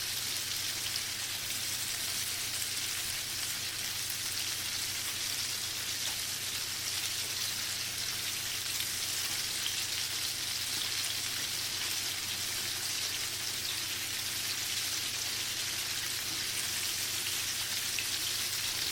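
Chicken nuggets fry in hot oil, a constant close crackling sizzle with fine popping, steady and unbroken throughout with no talking.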